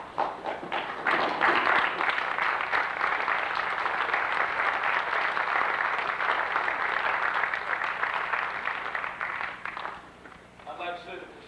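A college hall audience at a 1989 Black Solidarity Day event breaks into sustained, dense applause, loud and even for about ten seconds before thinning out, with a few scattered claps and murmurs at the end.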